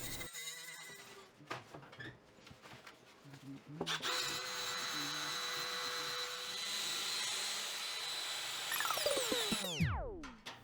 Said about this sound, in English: Then I used a wire brush on a drill to clean up the brackets from the old donor door.